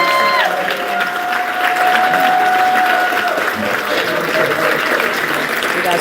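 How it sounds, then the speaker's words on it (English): Warm audience applause at a live show, dense sustained clapping from a crowd with some cheering and a brief tonal whistle early on, loud and continuous throughout. "Let's please give a nice warm round of applause."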